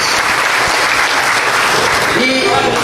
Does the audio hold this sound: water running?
no